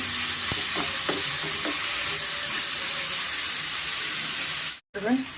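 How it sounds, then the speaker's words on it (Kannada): Tomatoes frying in oil for sprouted horse gram sambar give a steady, close sizzling hiss with a few short stirring knocks, then a brief dropout and a quick clink. "ಸ್ವಲ್ಪ ನಾವು ಫ್ರೈ ಮಾಡ್ಕೊಳ್ಳೋಣ"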